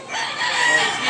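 A black Hennie rooster crows once nearby, a short, loud, strained crow lasting about a second.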